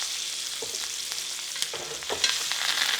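Butter melting and sizzling in a pan with smashed garlic and thyme, a steady soft frying hiss broken by a few light clicks of a utensil, with no voices.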